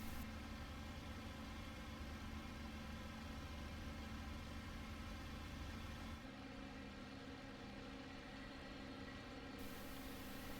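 A propeller aircraft engine roars steadily during takeoff in the flight game IL-2, a dense continuous drone with no talk, its tone shifting slightly partway through.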